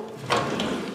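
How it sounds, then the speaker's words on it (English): A bathroom drawer sliding open with a short, soft scrape in a slightly echoey room, one brief close movement. "Okay, let's start with this drawer."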